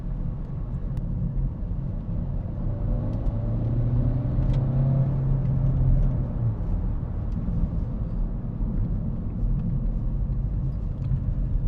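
A Renault Clio 6 drives along in Smart Eco mode with a continuous low road rumble, the engine rising in pitch midway as it accelerates, then easing back.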